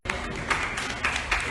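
A church congregation applauding during a Portuguese-language Assembly of God service, steady dense clapping with a few louder swells, fairly near.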